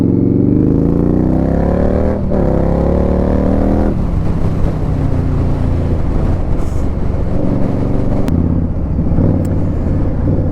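Indian Scout Bobber motorcycle ridden through the countryside, its V-twin engine droning loud and close with rising and falling revs and gear changes, wind rushing over it the whole time.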